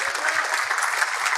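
A congregation claps in a church service, rapid crowded applause filling the space, with soft low thumps recurring at a regular beat beneath the clapping.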